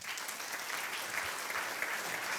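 Sustained audience applause fills a gala hall at a workers' group 40th anniversary celebration, a dense steady wash of many hands clapping at fairly constant loudness throughout.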